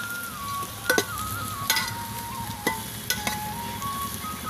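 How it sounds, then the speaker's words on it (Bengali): Fried onions with Kashmiri chili powder sizzle in a pot on a clay village stove while a spoon scrapes and stirs in a few sharp, irregular clanks over the constant frying hiss. "এবার কাশ্মীরি লঙ্কার গুঁড়োটা দিয়ে দেবো, এবার ভালো করে একটু নাড়াচাড়া করে দেবো"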